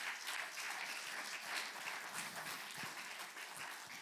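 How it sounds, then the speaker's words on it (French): Congregation applauding during a church worship service, a steady, dense wash of many hands clapping that fills the room continuously without letting up. "j'aimerais que prophétiquement, on puisse applaudir le Seigneur"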